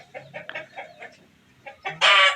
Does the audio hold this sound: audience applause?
no